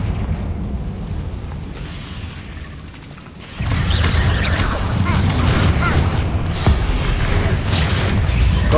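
A Confringo fire spell explodes in the Hogwarts Legacy video game, a sudden loud burst that rolls into a sustained crackling, roaring blast over ongoing combat noise.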